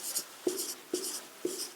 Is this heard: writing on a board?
yes